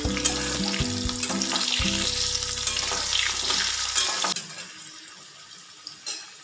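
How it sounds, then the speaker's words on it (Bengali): Salted cut potatoes frying in a pan for a vegetarian potol-aloo curry, a steady close sizzle with stirring clatter and a low hum that cuts out after about four seconds, leaving a quieter hiss. "দিয়ে এবার আলুগুলো ভেজে নেব"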